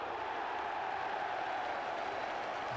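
Football crowd at Highbury stadium during an Arsenal versus Manchester United league match, a steady broad roar of many voices filling the whole stretch, loud and unbroken with no distinct individual shouts.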